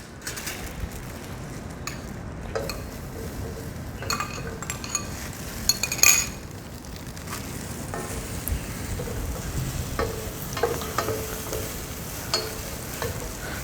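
Boiled potatoes being gently stirred into vegetables in a pan, with soft scraping, light sizzling and occasional utensil clinks against the pan, steady and close, with no talking.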